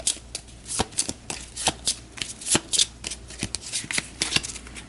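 Cards from a wrestling card game are riffled and shuffled in quick, crisp bursts of rapid flutters, close to the microphone and repeated throughout, with no speech.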